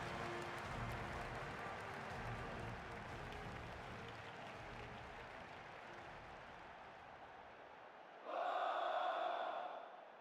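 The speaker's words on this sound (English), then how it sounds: "just listen to the crowd urging their teams on" A stadium crowd in the football video game PES 2010 makes a broad, continuous roar and chant at the Italian Cup final. The sound stays steady and then gives way to a short, louder tonal burst near the end.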